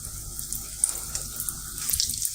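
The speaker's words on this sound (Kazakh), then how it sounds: "енді қазір оны майға қуыраймыз" Syrniki, cottage cheese pancakes, fry in a small amount of oil in a pan, giving a faint, steady sizzling hiss with small pops, and no voices.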